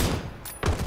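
Gunfire in PUBG, a Western-style Winchester and pistols match: two short, dense bursts of shots separated by a brief dip, fairly loud, with no talking.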